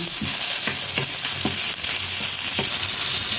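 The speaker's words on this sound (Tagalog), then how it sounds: "Igisa na natin itong chili." Chili sautéing in a hot pan, a steady loud sizzle with several sharp stirring scrapes at irregular intervals.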